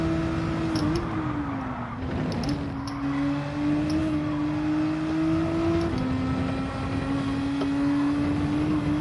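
Engine of a car driving in the Gran Turismo 7 racing game, a steady droning tone that rises and dips with gear changes and throttle, continuous and moderately loud with no talk.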